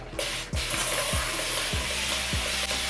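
A spray bottle mists water onto hair in quick hissing bursts, about five short puffs in a steady rhythm, close and fairly loud over a constant background hiss.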